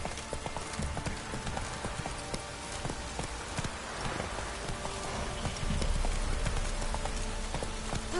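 Roach the horse gallops in The Witcher 3: Wild Hunt, a rapid, steady clip-clop of hooves over a dense bed of game ambience, loud and continuous throughout.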